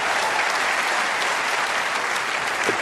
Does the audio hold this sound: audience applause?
yes